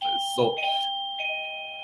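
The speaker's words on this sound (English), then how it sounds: "that's my doorbell that kind of interrupting things" A household doorbell chimes with clear sustained ding-dong tones ringing out close and loud, while someone briefly speaks over the start.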